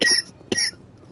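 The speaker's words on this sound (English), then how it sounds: "I've been having this stupid cough towards my throat ever since this past Wednesday night" Two short, close coughs from a person with a throat irritation, sharp and loud, spaced about half a second apart, then quiet.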